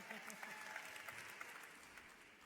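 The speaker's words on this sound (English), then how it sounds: "But now that's a huge applause." Faint, distant audience applause at a corporate technology tools presentation, a steady wash of clapping that carries on evenly throughout without cheering.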